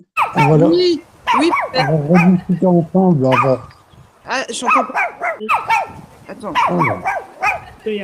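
A shepherd dog barks and yips among lively French conversation, with people talking loudly over and between the short, close barks.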